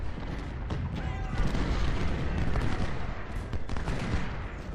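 Dense rolling musket volleys and distant artillery booms rumble together in the Ultimate General: Civil War battle at Fredericksburg, a continuous crackling din with deep low thuds underneath.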